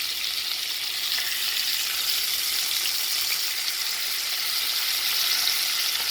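Fish frying in a seasoned pan right after being flipped, a steady close bright sizzle with crackling oil that holds constant throughout, no speech.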